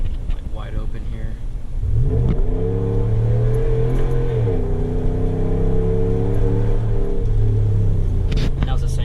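A Ram pickup truck fitted with a tonneau cover is run up at wide open throttle, its engine note rising in clear stepped climbs as it gears up, loud and close from inside the cab.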